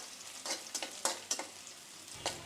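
Leafy greens fry in oil while being stirred and mashed with a wooden masher, giving short, rhythmic bursts of soft sizzling and scraping at a modest volume.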